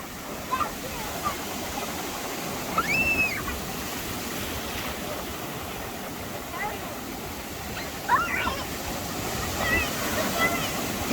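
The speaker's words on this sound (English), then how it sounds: "do you know why the waves are coming in closer and closer?" Ocean waves at Wrightsville Beach wash in with a constant roaring surf, and people talk and call out briefly over it at a few points.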